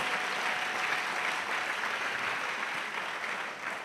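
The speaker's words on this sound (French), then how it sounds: "Let's clap for Jesus" A church congregation claps and cheers for Jesus, a dense, steady wash of many hands clapping that holds at full strength throughout without a break.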